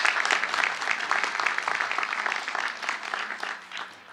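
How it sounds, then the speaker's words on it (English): Graduates clapping at a commencement ceremony, a dense crowd applause that holds steady and then tapers off near the end. "Give yourselves a warm round of applause."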